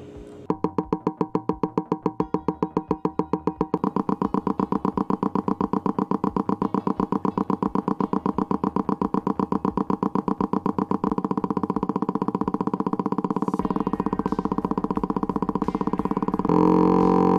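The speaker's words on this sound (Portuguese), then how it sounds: "vamos colocar agora um exemplo audiovisual de um monocilíndrico, em seguida de um bicilíndrico de 180 graus e depois um bicilíndrico de 360 graus" Motorcycle engines run one after another: a single-cylinder, then a 180-degree parallel twin, then a 360-degree parallel twin. They begin with spaced, evenly repeating firing pulses that speed up into a steady, loud, close drone.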